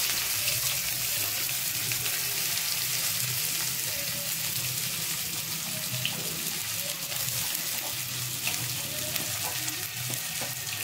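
Onions added to hot oil and fried in a pan while cooking a chicken dish, a steady close sizzle and crackle with faint stirring scrapes, running continuously with no talking.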